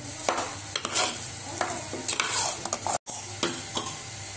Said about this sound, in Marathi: याला आपण सारखं हलवत राहायचं 5-5 मिनिटांनी, नाहीतर खाली लागेल डाळ।